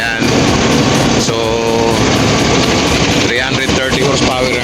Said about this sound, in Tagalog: Tapos of course, ito yung makina natin.